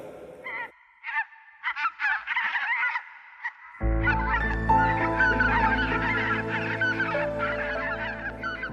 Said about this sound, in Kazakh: Қаздар қайтып барады